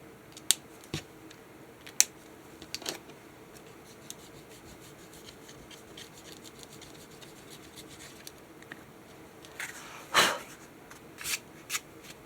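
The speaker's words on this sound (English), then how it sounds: "So I'm going to erase my pencil lines now." Pencil lines being erased on a junk journal page: scattered faint, brief scratchy rubs across a quiet room, with a longer, denser burst of rubbing near the end and no talking.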